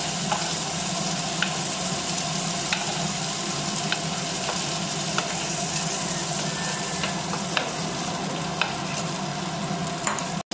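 Prawns frying in hot mustard oil, a loud continuous sizzle with occasional sharp pops and light scraping of a utensil.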